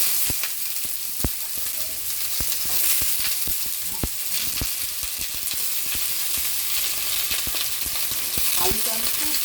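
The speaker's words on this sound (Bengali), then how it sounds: "আমি আলুটা ভাজবো।" Thin potato strips fry in oil with black cumin, a steady loud sizzle close up, punctuated by clicks and scrapes of stirring against the pan.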